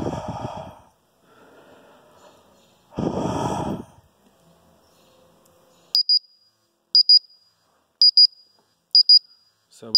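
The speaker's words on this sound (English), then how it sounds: "you can see the change in the alarm beep frequency as the alarm goes from low alarm to high alarm" A ToxiRAE Pro CO2 meter sounds its alarm: after breathy noises near the start, sharp electronic double beeps repeat about once a second, loud and close, as the alarm steps from low to high.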